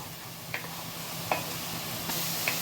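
Onions frying in oil in a pan over medium gas, a steady soft sizzle with a few faint clicks of stirring, close and fairly quiet, with no voices.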